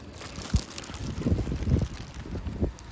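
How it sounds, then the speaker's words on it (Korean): Wind gusting outdoors on a hot day, a rough low rumble buffeting the microphone in uneven bursts with faint watery rustle, fairly close and steady throughout. "오, 바람 분다."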